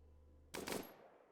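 A single burst of gunfire from a distant fight in the colony-building game RimWorld, one short crack with a quick rattle that fades over a low background hum.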